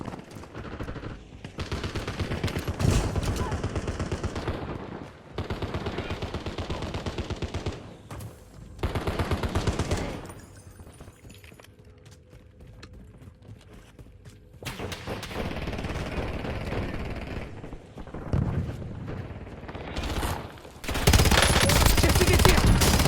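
Gunfire in a French-language squad battle-royale shooter, bursts of rapid automatic fire and single shots coming in loud clusters separated by quieter gaps, with in-game voice callouts between them.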